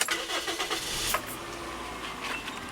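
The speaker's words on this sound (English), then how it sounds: "Let's just get that car going." A car engine cranks briefly and catches, then settles into a steady idle, heard close and fairly loud with no talking.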